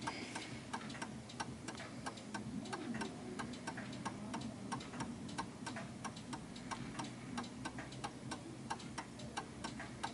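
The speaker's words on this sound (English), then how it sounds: "I can tell by the ticking, ever so slightly" A 1930s eight-day striking mantel clock in an oak case, made by Enfield, ticks steadily and evenly on its own, with crisp, faint beats throughout.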